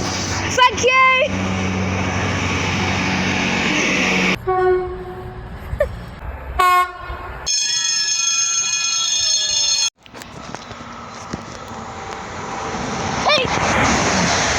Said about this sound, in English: There's a train up speed, folks.